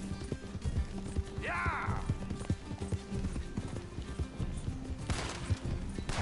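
Horse hooves clip-clop at a gallop in a video game, a steady rhythm mixed with game noise, with a brief whinny early on.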